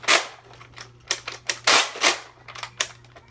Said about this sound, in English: You pull it back and you shoot.